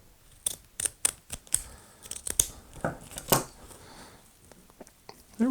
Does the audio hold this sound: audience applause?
no